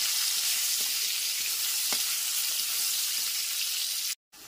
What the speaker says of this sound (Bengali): গ্যাসের ফ্লেমটা মিডিয়াম টু হাইতে রেখে আলুগুলোকে ভেজে নেব।